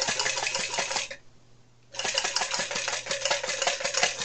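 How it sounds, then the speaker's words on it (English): Dart Zone MKII blaster magazine follower and spring bouncing up and down, a rapid rattling buzz of quick repeated clicks, close, stopping briefly midway before resuming, with no talk. "That's the follower spring and the follower bouncing up and down."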